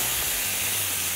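Steak searing in beef tallow on a hot griddle gives a loud, steady, broadband sizzle that fills the whole moment without a break.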